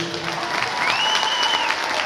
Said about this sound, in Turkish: bas gitarda kurtuluşa kocaman bir alkış